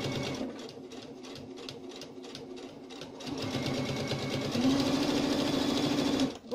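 A Pfaff sewing machine stitching on its own, its needle mechanism running in a steady rapid clatter that speeds up and grows louder toward the end, close and with no talk.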